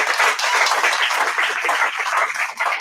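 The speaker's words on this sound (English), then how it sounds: "I want to give another round of applause for our panelists here." Audience applause for panelists at a forum on Cleveland lakefront development, a loud dense burst of clapping filling the whole short stretch with no talk over it.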